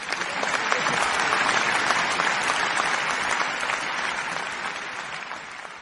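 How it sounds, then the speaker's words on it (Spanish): Sustained, dense applause from a crowd at a preschool graduation ceremony, honoring the graduating class, steady and full throughout with no voices standing out. "Brindemos un aplauso a los alumnos de Tercero B."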